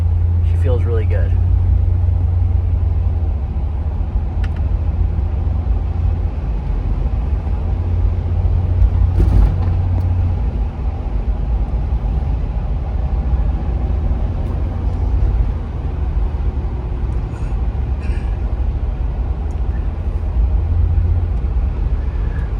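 A 1996 Lexus LX450 with a Dubai-spec engine cruises at highway speed around 70 mph, giving a steady, loud low rumble of engine and road noise with continuous wind and tire roar throughout.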